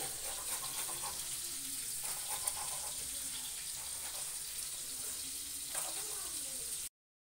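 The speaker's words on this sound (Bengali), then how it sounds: "এখানে কড়াইতে কিন্তু তেলটা দিয়ে দিয়েছি আমি, আর তার সাথে দিয়ে দিলাম এখানে চিংড়ি মাছ। তো চিংড়ি মাছটা একটু ভেজে নেব।" Prawns fry in oil in a wok, giving a soft, steady sizzling hiss with faint crackles throughout, moderately quiet and unbroken, then cutting off abruptly near the end.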